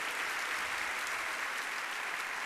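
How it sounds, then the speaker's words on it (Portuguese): A church congregation breaks into dense, steady applause, a continuous wash of many hands clapping with no voices standing out. "vamos aplaudir essa galera abençoada"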